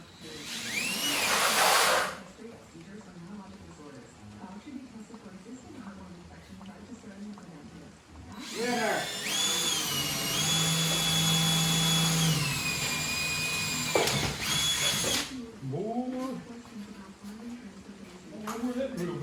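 Power drill whirring steadily for several seconds during repair work on a factory stock car hit by a wreck, with loud bursts of tool noise before and after and a person talking nearby.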